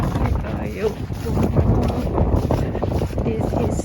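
Strong wind roars steadily against the microphone during a wet snowstorm in Toronto, a constant rushing blast with no clear lulls.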